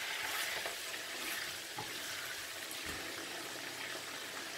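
A spoon stirs chicken karahi curry in a hot pan, with steady sizzling and frying broken by a few soft scraping strokes, close and continuous with no talk.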